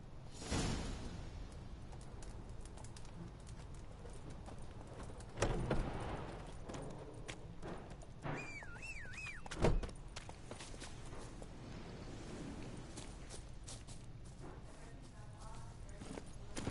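Roach the horse's hooves clip-clop at a steady walking rhythm in a video game, fairly faint and close, with a few louder thumps and a brief whistling tone partway through.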